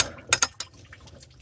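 A 3/8-inch ratchet turning a 12 mm shallow socket on a bolt of a Mitsubishi Delica L400 water pump, giving a few sharp metallic clicks and clinks close by, then quiet ticking.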